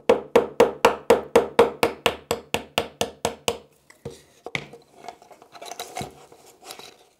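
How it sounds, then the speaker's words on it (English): A hammer strikes metal in a fast, even series of about fourteen sharp taps, pushing a pin out of a robot chassis, then a few scattered knocks and clinks follow more quietly. "I'm going to have to use a hammer to actually push this thing out"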